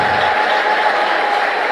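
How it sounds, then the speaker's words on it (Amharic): A church congregation at a Christmas conference claps together in a loud, dense, continuous burst of applause with no break. "ካጨበጨባቸው አጨብጭቡለት።"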